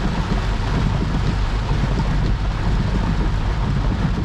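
A downpour of unusually heavy rain drums on a BMW while driving, a constant loud wash of noise that fills the cabin with no voices.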